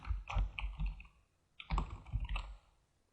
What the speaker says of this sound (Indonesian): Di sini saya ketikkan motivasi.